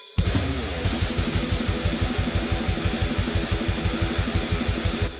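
A distorted electric guitar set to a black metal preset with extra gain and drive churns out a dense, fuzzy riff over fast, steady pounding pulses, loud and continuous.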